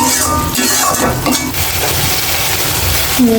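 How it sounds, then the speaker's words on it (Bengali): Rice and lentils hit hot spiced masala in a pan, setting off a loud, steady sizzle with stirring scrapes and light clinks of a utensil against the pot. "আমার মশলাটা কষা হয়ে গেছে গা আমি চেল আর ডালটা দিয়ে নই"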